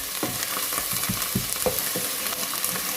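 Spinach and red lentil dal frying in a pan while being stirred, a steady sizzle with repeated soft scraping strokes of the spoon, close and alone with no talking.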